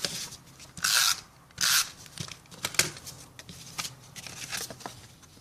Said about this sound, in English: you could trim it exactly even with your cardstock